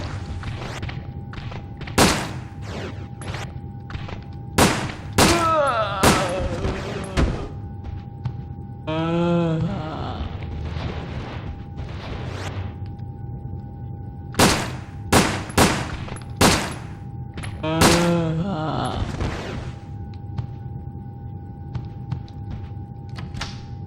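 Gunfire in the Resident Evil Dead Aim video game aboard a luxury liner, sharp loud single shots spaced irregularly, some in quick clusters, with mechanical reload clatter between them.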